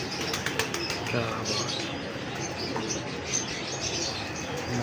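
Performer pigeons coo and flutter their wings at a breeder's loft, steady bird sounds and wing flaps under a voice talking.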